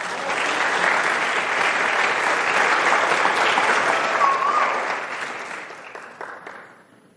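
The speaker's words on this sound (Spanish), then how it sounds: "Dele un aplauso al Señor" A church congregation applauds in a dense, sustained wash of clapping that holds strong for several seconds before thinning out and fading.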